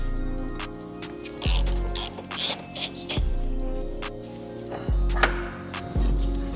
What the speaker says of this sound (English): take a 15 millimeter, we're going to release these two nuts on this side, the two on that side